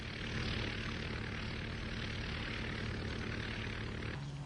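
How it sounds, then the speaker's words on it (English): A propeller airplane taking off makes a loud, continuous engine drone that holds steady throughout, with no voices. "And the plane takes off, or at least it tries to."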